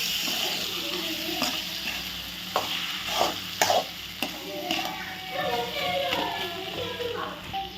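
Tomatoes and onions fry and sizzle in a pan for a Tamil home dinner, with repeated spatula knocks and scrapes as they are stirred, and a busy, close-up crackle throughout.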